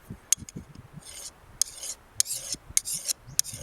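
Gossman sharpening tool rasping across a fire steel in short repeated strokes, close and crisp with gritty scraping bursts and brief pauses between passes, no talking.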